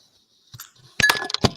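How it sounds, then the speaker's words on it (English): A drinking glass falls over, giving a quiet early tap followed by a burst of sharp clinks and rattles as it topples and settles, close and brief. "Did I hear a glass fall over?"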